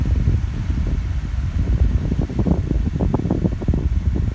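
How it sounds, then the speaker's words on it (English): An unbranded 12-inch metal desk fan runs steadily and fairly loudly nearby, a continuous broadband whoosh of moving air with a low rumbling flutter and no voices. "This thing's unfortunately not quiet, but it still blows a lot of air."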